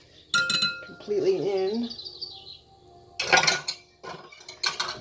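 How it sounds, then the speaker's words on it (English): Metal whisk clinking against a pot while gelatin is stirred in, bright scattered clinks in short bursts at start and end, with a person talking in between. "I'm just going to give this a whisk, make sure the gelatin is"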